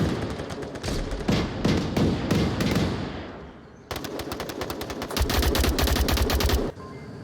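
Automatic gunfire traded through the window of a middle house in a tactical shooter match, coming as rapid bursts of shots with a short lull near the middle, then a dense, loud run of firing that cuts off abruptly.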